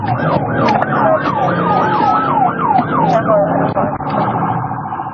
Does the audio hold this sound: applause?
no